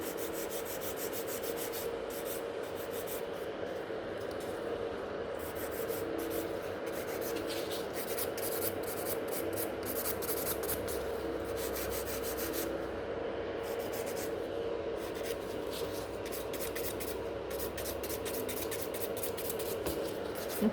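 A file rubs steadily back and forth across a gel nail extension on a tip, tapering it in a continuous soft rasping scratch, close and even throughout.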